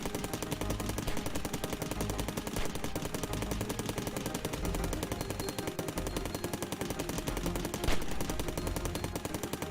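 A turret in the video game Cally's Trials fires rapid, continuous bursts of gunfire, a dense mechanical rattle running steadily throughout with a brief louder burst near the end and no talk.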